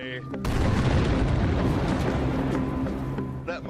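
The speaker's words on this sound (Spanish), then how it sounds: "Aquí realizamos varias explosiones al día." A sudden loud blast of explosives in granite erupts, then a long rumbling roar with debris-like crackle that slowly fades; a voice is briefly heard at the start and end.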